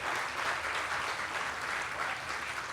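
Steady applause from a gala audience at a formal ceremony honoring veterans, a dense continuous patter of many hands filling the room without a break.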